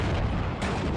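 Heavy booming gunfire from 105 mm artillery in the WWII strategy game Steel Division 2, a loud dense rumbling blast that fills the whole second with a slight break partway through.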